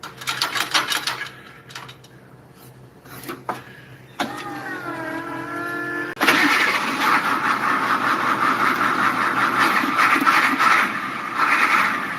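A large bus diesel engine cranks and catches, then settles into a loud, steady rumbling idle after some clunks and a whining starter.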